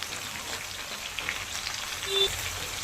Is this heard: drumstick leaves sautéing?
yes